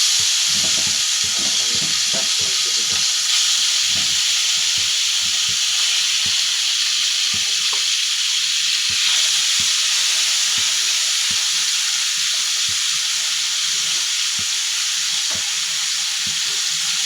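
Puti fish, coated in turmeric and salt, frying in a pan: a steady, loud oil sizzle and hiss that runs the whole time with small crackles and pops, no voices.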